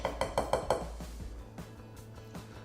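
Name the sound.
whisking dry bath bomb ingredients with oils in a bowl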